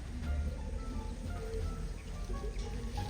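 Steady rain patters down outdoors at an elephant garden in Pattaya, a soft continuous hiss with a low rumble underneath. It stays even and fairly faint for the few seconds, with no talk.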